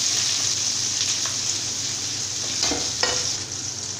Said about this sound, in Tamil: இப்போ இது எல்லாமே சேர்த்துட்டு இந்த மாதிரி வதக்கிக்கலாம்